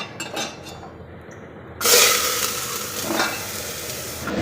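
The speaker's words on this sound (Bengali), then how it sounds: "তো সাদা তেল দিলাম, এর মধ্যে দেব গাজর, বিনস, আলু, মটরশুঁটি, ক্যাপসিকাম, এগুলো দিয়ে একটু ভেজে নেব হালকা করে।" Carrot, beans, potato, peas and capsicum hit hot white oil in a pan, a sudden loud sizzle that keeps crackling and hissing, with faint stirring and clinks just before.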